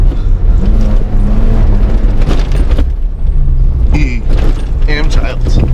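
A Suzuki off-road vehicle's engine drives in second gear with a loud, steady, close rumble, and a voice talks over it.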